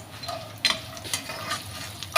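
Carrot upma with semolina, chillies, curry leaves and peanuts being stirred in a hot pan, soft scraping and light sizzling with a few sharper spoon clicks, close and alone.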